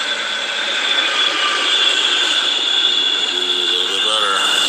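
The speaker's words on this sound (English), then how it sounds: "Okay, so this is the train, Jefferson Park." A loaded Metra commuter train at Jefferson Park gives off a steady rumbling hum and high mechanical whine, with a brief squeal of wheels or brakes near the end.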